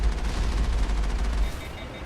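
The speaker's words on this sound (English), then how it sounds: "I have definitely shot a bunch of machine gun and cannon fire at him" Machine gun and cannon fire from the video game Mass Effect rattles in rapid, loud bursts of repeated shots that ease off toward the end.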